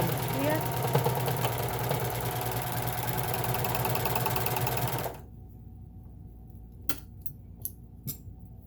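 Baby Lock Evolve sewing machine running a cover stitch, a fast steady mechanical rattle close by for about five seconds, then stopping, followed by a few sharp clicks in near silence.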